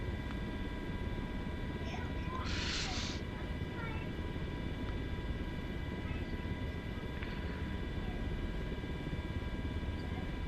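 A Sikorsky MH-60 Blackhawk helicopter in a flight video game on a firefighting mission in Portugal gives off a steady, even drone of engine and rotor noise throughout, with a few faint beeps from the simulator.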